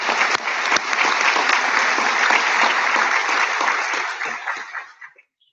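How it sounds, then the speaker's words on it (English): Dense, loud applause from a large audience at a military change-of-responsibility ceremony, a sustained wash of clapping that holds steady for about five seconds before dying away quickly. "Would everyone please join me in a round of applause for this outstanding non-commissioned officer."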